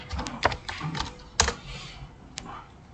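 Keystrokes on a computer keyboard while entering product names into an Excel spreadsheet, a few clustered taps with brief pauses, close and moderately loud, no talking.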